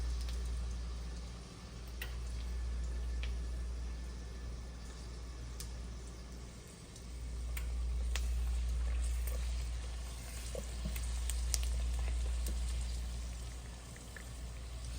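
Garlic frying slowly in a pan gives a soft, steady sizzle with scattered small pops and ticks, fairly quiet and continuous, with no talking.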